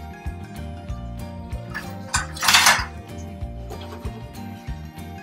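A burger patty goes into a pan with clattering cookware and utensil clinks, then a short burst of hissing sizzle as it hits the hot surface, followed by quieter handling sounds.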